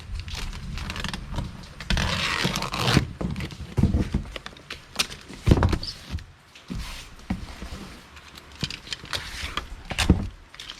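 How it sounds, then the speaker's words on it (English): Packing tape pulled and pressed onto a big cardboard shipping box, close by, in irregular rasping tears and thumps with pauses between strips. "I'm going to go ahead and get the tape on this."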